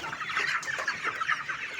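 Chickens on a poultry farm cluck steadily and close by, with overlapping bursts from several birds and no pauses.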